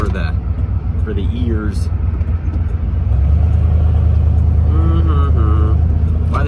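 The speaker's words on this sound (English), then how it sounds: "here's a little acceleration test just for the" An OBS pickup truck fitted with a swapped Saginaw steering box pulls away and accelerates, its engine rumble swelling loud and close in the second half, while someone talks over it.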